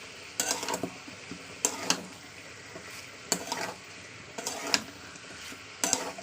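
Ground spice paste for gondhoraj-lemon chicken kosha being stirred and fried in a little oil, with a spatula scraping the pan in regular strokes about once a second over a soft, steady sizzle.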